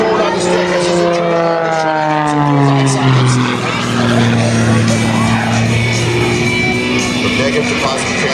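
A Zivko Edge 540 aerobatic plane with Red Bull logos on a blue carbon-fiber wing performs at the 2013 Shafter, California airshow. Its loud, steady propeller-engine roar sweeps up and down in pitch through maneuvers under continuous commentary.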